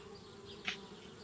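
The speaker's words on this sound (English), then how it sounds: "Darn bees." Bees buzzing in a video game, a faint steady insect drone with one short louder buzz passing close midway.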